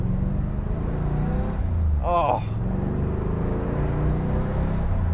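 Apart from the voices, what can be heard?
1966 Chevy Corvette 427 engine burble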